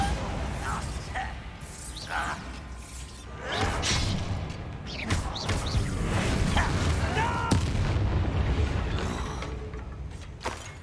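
Bombarda explosion spell in the Hogwarts Legacy video game, booming blasts and whooshes over a dense, loud game soundscape with mechanical creaks and scattered sharp impacts.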